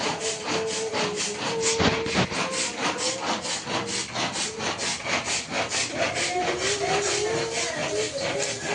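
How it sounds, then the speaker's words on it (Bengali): Food is grated by hand on a kitchen grater in steady back-and-forth rasping strokes, close and fairly loud, with a voice heard faintly underneath. "এখন আমি তো গ্রেটারে কুচি করে নিচ্ছি।"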